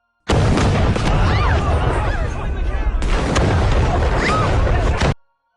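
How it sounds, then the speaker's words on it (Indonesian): A loud, sustained roar of an explosion, rumbling and crackling for several seconds before cutting off abruptly. "Setelah itu, tiba-tiba saja gedung meledak."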